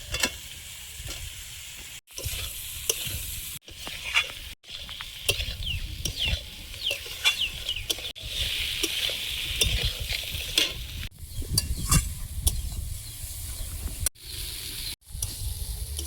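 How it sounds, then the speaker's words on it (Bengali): Potatoes with tomato, slit green chillies and spices stir-fried in a pan, giving a steady close sizzle with repeated scraping strokes of a spatula, briefly broken by short pauses, with no talking. "মশলার সাথে আলুটা ভালোভাবে কষিয়ে নিয়েছি"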